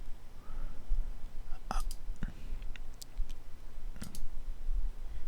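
A computer mouse clicks a start button during cloud server setup, a few sharp isolated clicks against quiet room tone with faint mouth noises.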